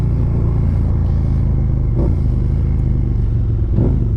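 A motorcycle engine idles steadily with a loud, rumbling exhaust, deep and continuous, with a couple of brief revs rising above the drone.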